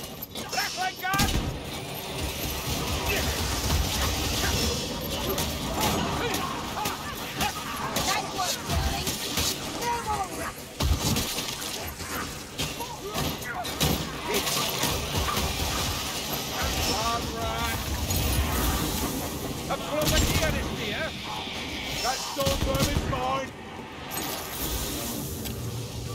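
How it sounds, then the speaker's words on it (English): Skaven rattling gun firing during a chaotic Warhammer: Vermintide-style Chaos Wastes battle, a dense rattle of rapid shots and metallic clanking amid steady combat noise, with voices talking over it. "I hear the clank of a rattling gun."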